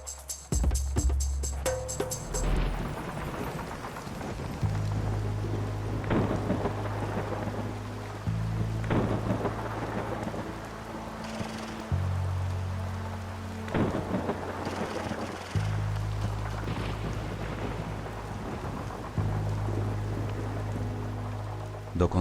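Heavy nighttime downpour with deep thunder rumbling through it, a steady hiss of rain broken by several rolling peals, with low music underneath.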